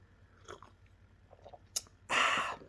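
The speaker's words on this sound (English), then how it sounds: "And so a little slurp." Decaf coffee is slurped from a cup late at night, a few small mouth sounds leading to one loud, airy slurp lasting about half a second near the end, close and otherwise quiet.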